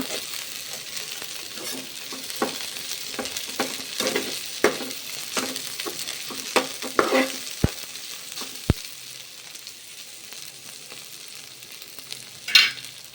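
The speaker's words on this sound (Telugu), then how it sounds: "వెల్లుల్లి, కరివేపాకు ఫ్రై అయిన తర్వాత" Garlic and curry leaves fry in oil with okra, a steady close sizzle broken by scraping stirs and sharp spatula clicks against the pan.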